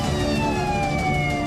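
Police and ambulance sirens wailing loudly and continuously at a car crash scene, the steady tones sliding slowly downward over dense background noise.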